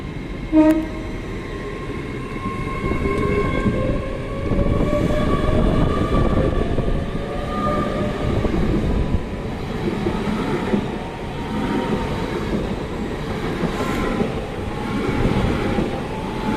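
A passenger train pulling out of Reading station toward London Paddington, a loud rumbling roar with rising whine as it accelerates, a brief horn note early on, and wheel noise rolling past close by.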